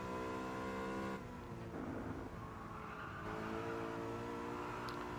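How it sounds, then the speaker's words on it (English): Race car engine in a sim racing game, a steady high droning whine that shifts pitch between gears, loud and continuous with a faint tire-scrub texture and no talk. "Car sounds like a vacuum cleaner."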